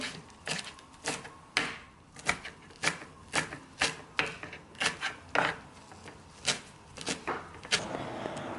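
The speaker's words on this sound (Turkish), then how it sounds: "Bir avuç maydanozum var. Onu da ince kıyım yapıyorum." A knife finely chops a handful of fresh parsley on a board in a home kitchen, giving a close, steady run of crisp taps at a brisk, slightly uneven rhythm.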